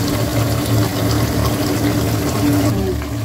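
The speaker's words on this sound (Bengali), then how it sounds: "অল্প পানি দিবেন" Water being poured into a duck curry cooking in a wok, a steady liquid rush over a low background hum that keeps an even level throughout, close by.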